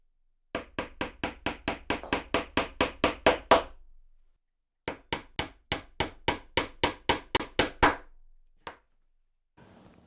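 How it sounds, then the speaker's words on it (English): Small nails are hammered into a wooden knife block in two quick runs of sharp, evenly spaced blows, about a dozen each, loud and close with no talking, then one last lone tap. "I'm just going to whack in a few little nails to hold them there."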